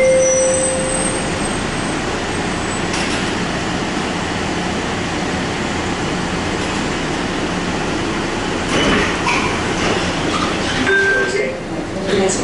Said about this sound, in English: El tren se acerca a la terminal C.